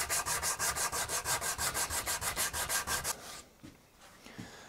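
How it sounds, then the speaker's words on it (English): Rhythmic back-and-forth sanding of wood for a custom Telecaster guitar with 80-grit paper on a hard sanding block, about a dozen even strokes, close and fairly loud, then stopping into near quiet with a few light knocks. "on a hard sanding block and just start cleaning this up"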